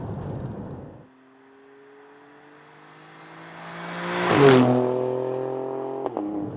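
Alfa Romeo Stelvio Quadrifoglio performance SUV engine pulling hard from quiet, rising in pitch through the revs, with crisp gear changes near the end as the note drops and climbs again, loud and close with no talking.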